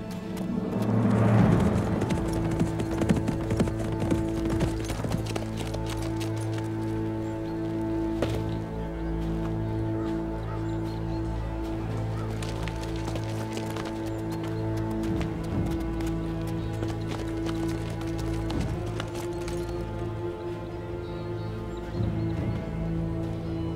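Horse hooves clip-clopping at a steady pace during a historical drama scene, with an even rhythmic patter under a dense bed of music that runs throughout.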